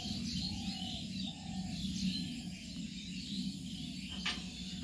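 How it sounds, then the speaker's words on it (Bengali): A flock of birds calls near a resort by Barhanti Dam in Purulia. Repeated short, tonal chirps and coo-like notes rise over a constant outdoor hum, with no voices. "এখানে এক ঝাঁক পাখির আওয়াজ শুনতে পাওয়া যাচ্ছে"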